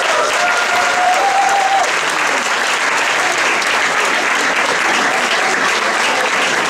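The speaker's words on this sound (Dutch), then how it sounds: "ik wil graag jullie keiharde applaus" An audience at a dinner show in Amsterdam gives sustained, loud, even applause for the opening act. The clapping fills the whole stretch, with a brief tone heard early on.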